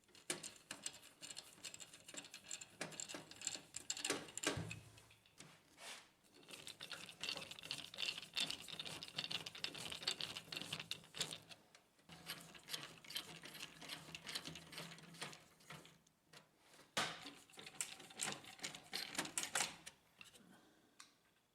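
Small screws being driven into the top cover of an HP LaserJet printer, heard as faint, quiet rapid clicking and ratcheting patter in repeated bursts with short pauses between them.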